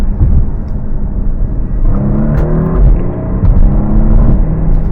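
A Porsche Panamera pulling away on its electric motor, with a steady low rumbling drive and road noise plus a faint rising whine, loud and close from inside the car, no talking.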